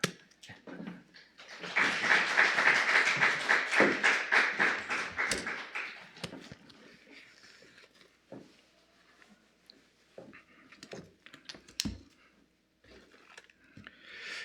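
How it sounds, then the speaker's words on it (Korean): A church congregation at a Sunday youth service claps to welcome a guest pastor, a dense burst of handclaps rising quickly, holding strong for several seconds, then thinning into scattered claps and room noise. "박수로 크게 환영하겠습니다."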